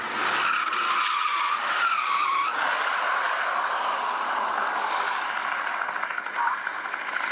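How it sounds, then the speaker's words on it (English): Car tires squeal loudly in sustained, wavering skids as a car does donuts and drifts, the screech rising and bending in pitch and then easing off toward the end. "Did you know that it's great doing donuts?"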